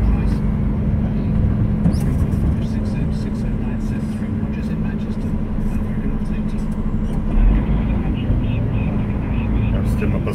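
Steady traffic rumble of cars passing along a London street, continuous and fairly loud throughout with no clear individual pass-bys, and speech faintly present over the road noise.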